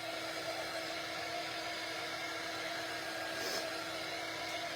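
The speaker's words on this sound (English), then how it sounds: "I'm going to hit it with the dryer and we're going to fix it." A hair dryer blows steadily and close up over a painted strawberry directional sign, giving a constant, even whoosh that runs unbroken for several seconds with no talking.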